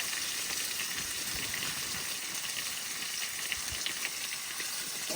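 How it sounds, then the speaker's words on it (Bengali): Potatoes frying in oil left over from frying fish, seasoned with salt and turmeric, giving a steady dense sizzle and hiss that stays close and even throughout with faint crackles. "আলু ভাজার মধ্যে একটু লবণ হলুদ দিয়ে দেবো।"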